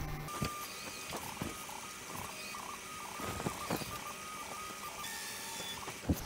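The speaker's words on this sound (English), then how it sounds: "Now it will do a 9-point calibration." A Prusa i3 MK3 3D printer runs its 9-point bed calibration, making quiet stepper-motor whines and a series of small ticks and taps as the probe moves point to point.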